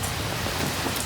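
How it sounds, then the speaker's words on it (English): Heavy rain pours steadily outside a holiday villa during a stormy spell, a dense, continuous hiss close by with no pauses or voices. "And it's still pouring with rain."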